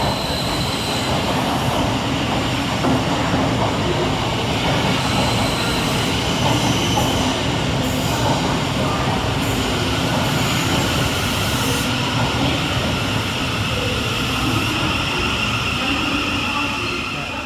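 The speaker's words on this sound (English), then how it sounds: "I think there's a train coming." A train rumbles and rolls steadily into a two-platform Thameslink station in London, with a continuous loud rail noise and faint wheel squeal high above, no voices.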